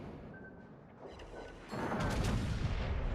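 Naval guns booming from a warship in World of Warships: Legends, aimed at an enemy ship; a quieter stretch gives way to a loud, sustained roar of heavy firing and impacts over the last half.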